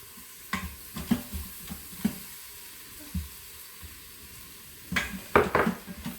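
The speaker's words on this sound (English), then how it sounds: "So make sure you stir that around." A tomato, garlic and cilantro mixture sizzles gently in a pan while a utensil stirs it, giving irregular scraping knocks and clatters over a low hiss, busier near the end.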